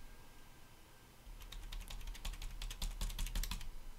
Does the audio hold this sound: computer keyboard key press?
yes